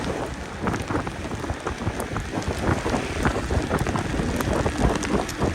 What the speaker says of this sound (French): Alors il pleut, hein. Il pleut.